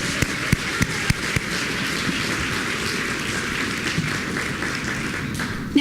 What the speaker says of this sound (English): Let's give Dexter a big round of applause.